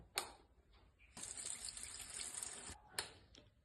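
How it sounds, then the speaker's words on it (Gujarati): Water gushes from a tap after a switch is pressed, a close, steady rush lasting over a second, bracketed by short splashes and clicks. "હા પાણી આવે છે ખરેખર"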